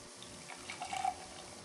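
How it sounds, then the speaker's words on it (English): Freshly made pulp-free juice poured into a container, a soft brief liquid trickle and splash lasting about a second, quiet and close with no talk. "Let me just pour it in front of you, okay?"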